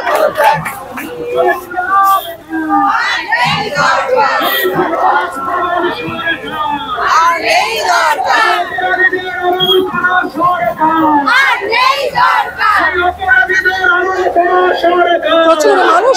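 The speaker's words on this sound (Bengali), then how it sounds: "উই ওয়ান্ট জাস্টিস, এক এই স্লোগান বারংবার উঠছে।" A large protest march crowd chants the slogan 'We want justice' in dense, loud massed voices that hold steady from start to finish, with no clear break or quiet moment.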